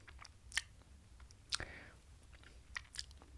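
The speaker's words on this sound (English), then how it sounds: "I'm chewing now, still trying to find a little bit there." Soft, close mouth sounds of someone chewing a sip of Macallan 12-year-old single malt whisky: faint wet smacks with a few sharp tongue clicks spread over a few seconds, very quiet.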